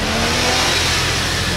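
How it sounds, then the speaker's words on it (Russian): An off-road vehicle's engine revs hard during an off-road contest on a mountain track at night, a loud, steady, close roar with no voices over it. "А, газует."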